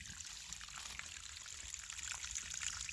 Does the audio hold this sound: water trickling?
yes